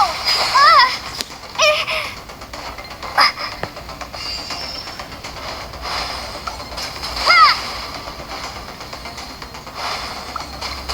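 A water jet ability in a video game sends out several short splashing bursts amid game audio, with children's voices heard alongside.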